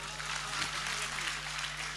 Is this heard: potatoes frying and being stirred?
no